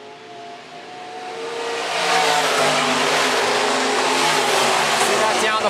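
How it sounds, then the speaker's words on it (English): Sport mod race cars circle a dirt track at a county raceway, engines swelling from a distant drone to a loud sustained roar as they pass near, with commentary over them. "Matt Firm back in the throttle will lead lap number one."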